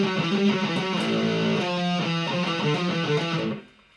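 A distorted electric guitar chugs a repeating power-chord bridge riff at steady volume, then cuts off abruptly near the end.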